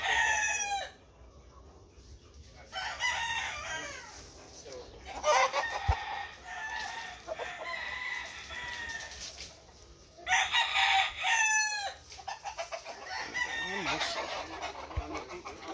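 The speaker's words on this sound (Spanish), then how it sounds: "Están presentando gallinas hoy" Roosters crow repeatedly and chickens cluck at a cockfighting gallery, several overlapping calls near and far, with people talking faintly in the background.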